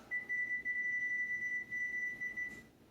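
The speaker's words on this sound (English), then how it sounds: "In the oven, put the timer on." Kitchen oven timer sounds one sustained, piercing electronic tone for about two and a half seconds, briefly broken by a few tiny gaps, then stops. It is fairly faint and heard alone.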